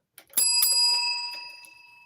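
A small bell rings once as a radio-show style sound effect, a bright struck chime that sustains and slowly fades, close and clear with no talking.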